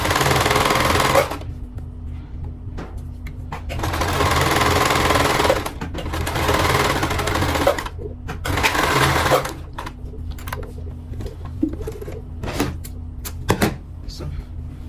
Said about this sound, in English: make sure you're dragging it and sewing on the line at the same time